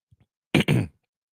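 A single sharp cough in two quick bursts, close and fairly loud, preceded by a couple of faint soft sounds.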